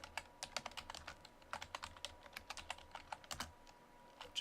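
Search being typed on a computer keyboard: quick, close, fairly quiet keystrokes in uneven bursts, with a brief pause near the middle and no speech.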